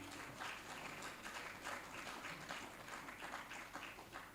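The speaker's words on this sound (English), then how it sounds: "A bigger round of applause for him" Audience applause at a book launch, a moderate crowd clapping steadily throughout, heard at a distance and fairly quiet, with no talk over it.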